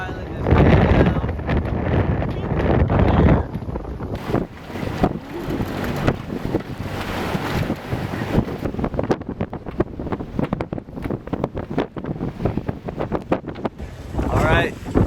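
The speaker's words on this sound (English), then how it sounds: "Wind's kind of high" Strong wind gusts buffet the microphone aboard a 42-foot sailboat moving through choppy water, a loud continuous roar with rough, fluttering bursts, and a person talks over it in places.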